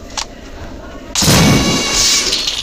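An explosion in the horror video game Granny hits abruptly after a quiet moment, a loud sustained blast and rumble that lingers for over a second; talking may be faintly present beneath it.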